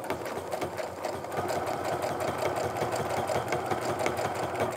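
A home sewing machine stitches continuously at an even, rapid pace while free-motion quilting along a ruler guided with the fabric, a close, steady mechanical whir with no talk.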